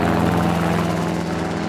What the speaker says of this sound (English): Chopper mustering is a must.